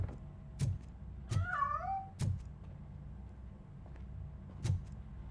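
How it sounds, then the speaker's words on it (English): A cat in the video game RoboCop: Rogue City gives one clear, drawn-out meow among a few sharp thuds and footsteps in a quiet room. "That cat must be hiding inside."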